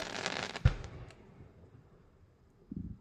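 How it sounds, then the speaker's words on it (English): Fireworks bursting in the night sky: a sharp nearby bang followed by crackling decay, then a fainter distant pop near the end, with no talk. "Blue fireworks."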